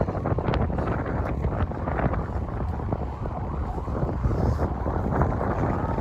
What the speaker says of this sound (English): Wow, it's so windy.